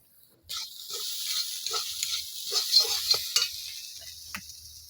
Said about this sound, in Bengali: খালি নাড়াচাড়া করবো ভাজা ভাজা হইলে নামাই দিব